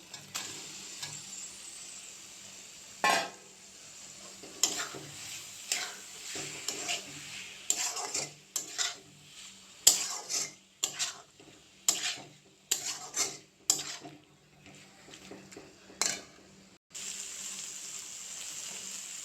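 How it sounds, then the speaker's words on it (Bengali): Soaked soybeans frying with spices in a pan, a steady sizzle broken by repeated scraping stirs that come quicker and denser in the second half, close and fairly loud. "সয়াবিন ভাজা হয়ে গেছে"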